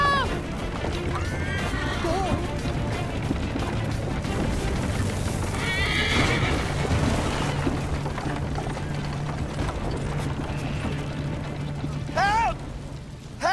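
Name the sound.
horse neighing in Assassin's Creed Liberation video game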